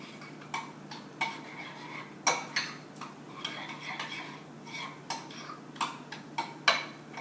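A spoon stirs a crab meatball mixture with pepper and capers in a bowl, making soft scraping and clinking taps at an uneven rhythm over a faint steady hum, with no one talking.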